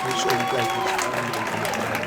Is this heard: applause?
yes